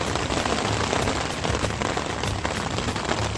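Rain falls steadily in Tian Shan park in Kyrgyzstan, a dense, even hiss of drops with scattered sharper patters throughout.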